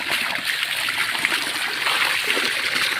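Deep well water pours into a blue tank in a steady, continuous rush of splashing and trickling, close by and fairly loud, with no talking.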